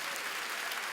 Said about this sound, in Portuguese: vamos dar a melhor salva de palmas para a palavra de Deus.